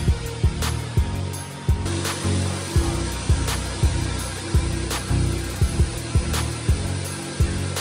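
A cooling fan on an eight-GPU 1080 Ti mining rig runs at 75% speed, a loud, steady whoosh of airflow with regular rhythmic pulsing thumps, close and continuous.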